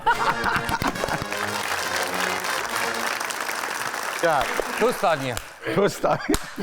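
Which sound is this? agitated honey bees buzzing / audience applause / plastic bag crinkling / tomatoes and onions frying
audience applause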